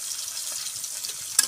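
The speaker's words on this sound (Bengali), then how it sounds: "পটলগুলো আমার ভাজা হয়ে গেল" Pointed gourd pieces frying in oil in a pan while fish curry with potatoes is being cooked, giving a steady close hiss and crackle with a sharp clatter near the end.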